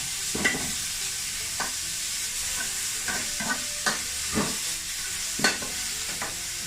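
Onion flowers stir-fried in oil in a pan, a steady sizzle broken by repeated scraping strokes of the spatula at an irregular rhythm, close and alone.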